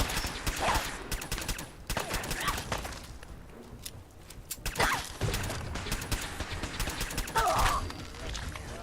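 Gunfire in Fallout 4: rapid bursts of shots with mechanical clacks between them, loud and close, coming in several clusters over a steady game-noise bed.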